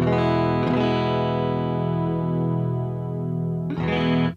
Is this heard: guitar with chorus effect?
yes